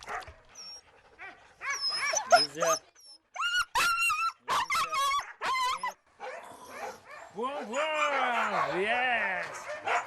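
Sled dogs in the Russian Far East bark, yip and whimper in an excited, overlapping chorus close by, with sharp bursts and drawn-out whines.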